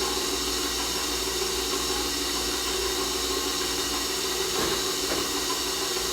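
An electric mixer running on low speed, beating cheesecake batter with eggs, a constant dense whirring hiss that stays close and even throughout.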